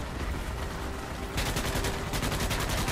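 Continuous rapid gunfire from the sci-fi shooter Starship Troopers: Extermination, a dense crackling barrage that grows sharper and more rhythmic midway, steady and loud with no talk.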